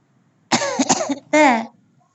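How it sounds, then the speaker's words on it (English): A single person gives a short double cough that is cut off abruptly, followed by a brief vocal sound, close and clear against near silence. "I was gonna fully cough, but then I wanted to say "uh-oh," so I cut myself off."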